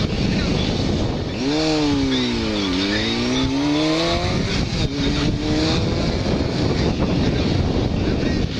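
A motorcycle engine climbs and eases through its gears, with rising and falling tonal whines under heavy wind buffeting on the microphone and a rider's voice talking over parts of it.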